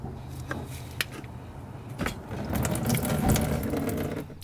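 A ratchet wrench clicks on car parts during an install on a 2015 Subaru WRX. Sharp ratcheting bursts come in short runs and build into a denser stretch of rapid clicking, close and clear, with no talk.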